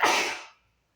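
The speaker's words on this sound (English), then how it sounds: "You had to sneeze during the video." A single short, breathy sneeze burst, close and fairly soft, fading quickly into silence.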